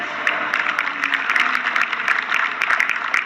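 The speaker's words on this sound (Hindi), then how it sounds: "ऐसे जो 15-20 लोगों ने तालियां बजाई हैं" A small audience of about fifteen to twenty people claps steadily at a direct-selling motivational event, a dense patter of hand claps that stays at an even level throughout.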